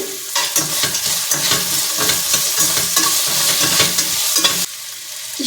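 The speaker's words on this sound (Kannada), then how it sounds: "ಈಗ ಇದಕ್ಕೆ ಇಷ್ಟು ಗೋಡಂಬಿಗಳನ್ನು ಹಾಕೋತಾ ಇದ್ದೀನಿ" Cashews tipped into a hot frying pan and stirred, with loud continuous sizzling and frying plus repeated scraping and clacking of a spoon against the pan, close up.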